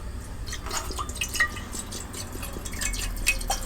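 Water bubbles and pops in a pot, small irregular plinks and drips over a soft continuous simmering hiss, close by.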